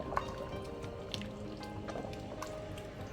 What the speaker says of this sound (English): I'm gonna add in a little bit of water, so that at the end of it we will still have some soup to eat